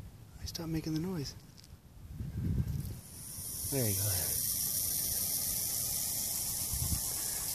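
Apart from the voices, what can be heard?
hognose snake hissing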